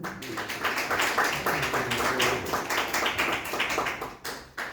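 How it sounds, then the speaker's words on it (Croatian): Audience clapping at a community gathering hosted by a local radio station, a steady rhythmic round of applause from a crowd that carries on evenly throughout, with a brief break near the end. "Pa tim povodom zaista pozdravimo još jednim aplauzom."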